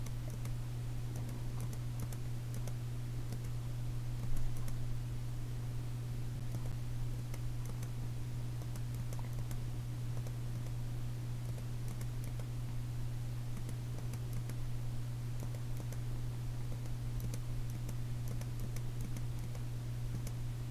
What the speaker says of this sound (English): We'll see if you can hear my spacebar dying, because I do spacebar.